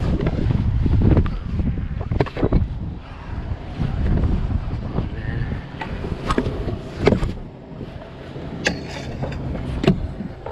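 Strong wind buffeting a boat out on the water, roaring gusts striking the microphone with waves and water noise beneath, rising and falling in bursts.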